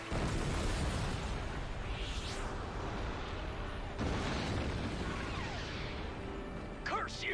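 A guided missile in the Star Fox Zero video game swings back and blows up, giving a loud sustained explosive rumble with a second burst midway, all under game noise.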